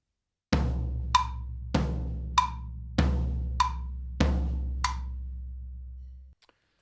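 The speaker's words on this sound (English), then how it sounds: "And all the ands are going to be chucked up on this jam block over here." A drummer plays a groove, alternating deep booming floor tom hits with sharp, clicky jam block strikes on the off-beats; the pattern repeats about five times in a steady rhythm, then the last tom note rings out and is damped.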